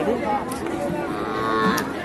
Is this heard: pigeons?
no